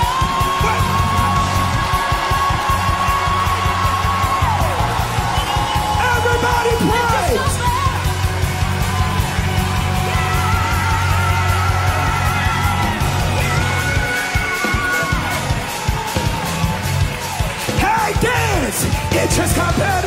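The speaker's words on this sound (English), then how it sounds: "I want you to shout. I want you to scream." A church congregation yells, whoops and screams together during a praise break. The crowd noise is loud and sustained, and a rhythmic musical pulse runs underneath it throughout.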